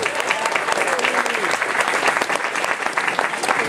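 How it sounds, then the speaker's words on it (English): An audience at a convention closing ceremony claps loudly and steadily, a dense patter of many hands that continues throughout. "Big round of applause."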